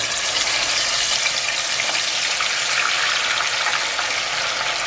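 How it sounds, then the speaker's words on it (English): Pork chops frying in hot oil in a pot for Dominican fried pork chops, a steady dense crackle and hiss that holds evenly throughout with no talk. "I'm gonna go ahead and start dropping our pork chops in here"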